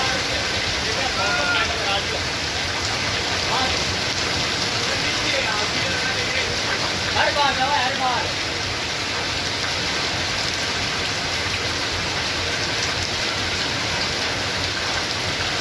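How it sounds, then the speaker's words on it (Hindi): Steady heavy rain with strong winds falls through a late evening in the Sardarshahar tehsil area, a constant dense wash of noise throughout, with faint voices briefly audible underneath. "वहीं देर शाम तक तेज हवाओं के साथ रुक रुक कर बारिश का दौर जारी रहा।"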